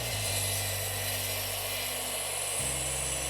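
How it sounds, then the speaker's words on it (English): A steady, loud mechanical whirr of power sanding wooden dice runs throughout, with a brief drop and shift in pitch near the end. "there was a lot of sanding because I made a lot of these dice"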